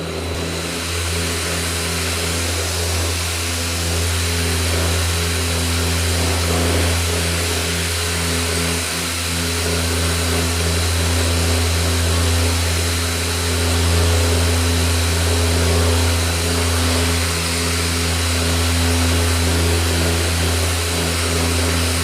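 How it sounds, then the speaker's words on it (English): Power sander fitted with 320 grit sandpaper feathering out a hard edge of body damage on a car panel, a loud, steady motor whine with a strong low hum and constant abrasive hiss running unbroken. "So I got my sander here with the 320 grit on it. We're just going to sand out this hard edge and feather it out."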